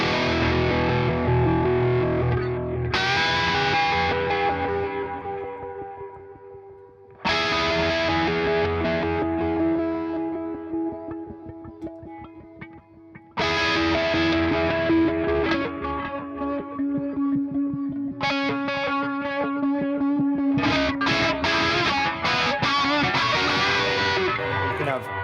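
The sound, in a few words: electric guitar played through amp distortion on pedalboard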